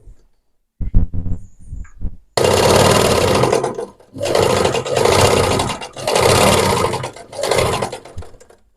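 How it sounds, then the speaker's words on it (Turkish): A Singer 298 or 224 sewing machine running a twin-needle zigzag stitch, with a few short mechanical clicks and then several loud, steady whirring runs separated by brief pauses. "çift iğnede zigzaglı dikiş oluyor mu bir de ona bakacağız"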